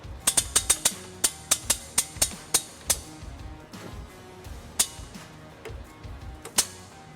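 A hitch jack raises a heavy trailer hitch into position under a 2022-2025 Nissan Pathfinder, giving a run of sharp, evenly spaced metallic ratchet clicks that slow, pause and resume, close by with a faint mechanical background.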